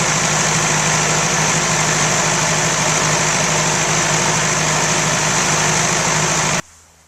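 A Ford 841 Powermaster tractor engine runs at a steady idle, loud and close, with a constant low rumble and mechanical clatter before cutting off abruptly near the end.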